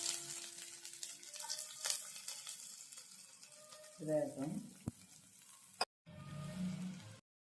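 Oil crackles and sizzles steadily as spices hit a hot pan for tempering a mutton gravy, with a brief burst of louder spattering midway and a short spoken word.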